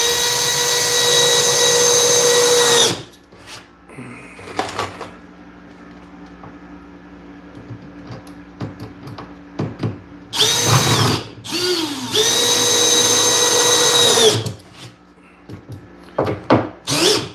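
A power drill drives screws into wood during assembly of a tank setup, in several loud bursts of whirring with quieter handling noises between them.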